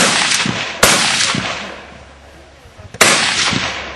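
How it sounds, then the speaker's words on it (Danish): Two sharp, loud gunshots about two seconds apart at a Danish army demonstration, each followed by a fading outdoor echo, with quieter background noise between. "Så lige her de første skud, hold jer lige for ørerne."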